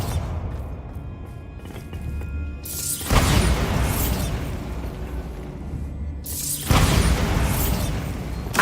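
Bombarda blasting spell in Hogwarts Legacy, two heavy booming explosions a few seconds apart, each a loud burst that rolls into rumbling debris, over a low game ambience.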